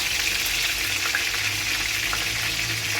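Scored bakso meatballs fry in hot oil with a steady, dense sizzle and hiss that holds at an even level throughout, close by and with no talking.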